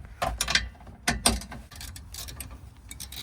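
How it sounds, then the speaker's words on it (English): Steering column being unbolted from a V6 Subaru during teardown, with several sharp metallic ratcheting bursts close by, separated by quieter clinks and handling noise. "Unbolt the steering column off of here."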